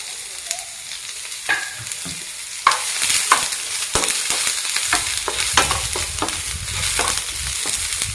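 Onions frying in oil for Mangalore-style chicken sukka, a continuous close sizzle broken by repeated scraping stirs of a spoon in the pan.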